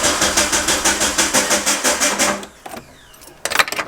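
A Jeep engine cranks with a rapid rhythmic chugging that stops short of starting, followed by a few loud clunks and rattles, all close and loud.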